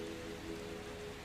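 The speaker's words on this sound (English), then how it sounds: "Maybe in this moment, the rain isn't outside anymore." Gentle rain falls in a soft, continuous, even patter, faint and steady with no voices.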